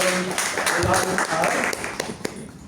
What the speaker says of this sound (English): a big round of applause to Francisco for taking up that